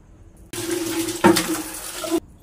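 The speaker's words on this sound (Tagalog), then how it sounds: "Tapos, lalagyan ko ng tubig, syempre." Water gushes steadily from a tap into a DIY egg incubator being cleaned with soap and bleach, a continuous splashing rush lasting under two seconds with a brief surge midway, and no talking.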